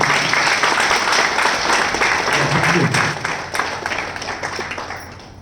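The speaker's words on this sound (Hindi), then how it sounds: "इंदिरा मैम, मैं चाहूंगा उनके लिए भी जोरदार ताली" Sustained audience applause fills a company gathering hall, dense and steady clapping from a large crowd that gradually thins toward the end, with a voice briefly audible over it.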